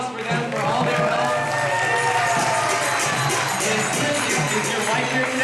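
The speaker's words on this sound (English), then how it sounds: "Huge round of applause for them for all their help." An audience at an ISKCON drama in Houston breaks into sustained applause and cheering. The clapping is dense and continuous, with voices shouting over it throughout.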